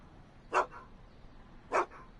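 Einstein the dog from the Back to the Future game barks twice, two short sharp woofs about a second apart over a quiet background.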